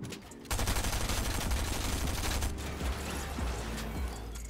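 Sustained automatic gunfire in a competitive arena shooter match, a dense rapid burst starting after half a second and rattling on steadily for four seconds at moderate level, with no talking.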